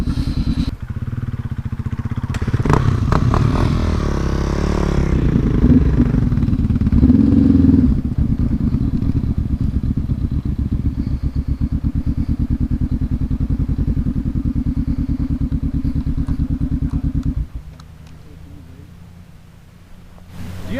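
A 1995 Kawasaki KLX dirt bike in excellent condition rides ahead on an Oregon route, its engine revving and clattering loudly with thumps, then dropping away near the end.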